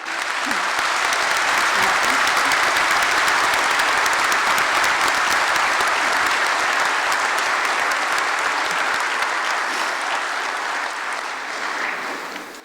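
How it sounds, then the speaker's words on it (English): A large audience at a college commencement applauds the faculty, a loud, sustained roar of clapping that stays even and full for over twelve seconds before tapering slightly at the end. "if we could give a round of applause to our faculty"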